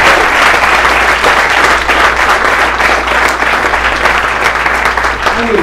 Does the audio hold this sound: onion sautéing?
no